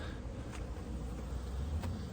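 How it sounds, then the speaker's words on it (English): Honey bees buzz around hives during spring splits in a beeyard, a steady low insect hum filling the background with a couple of faint brief clicks, no talking. "Bees are going crazy today."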